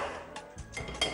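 A kadai (wok) is set down on a kitchen stove, giving a few quick metallic clanks and scrapes close by, with no talking.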